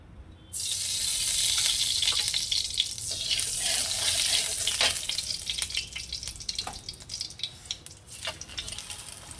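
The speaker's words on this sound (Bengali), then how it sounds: "একদম লাল করে মচমচে করে ভেজে তুলে নেবো" A loud, bright sizzle erupts suddenly as food hits hot oil in a wok, then keeps crackling and spitting steadily up close, tapering slightly toward the end.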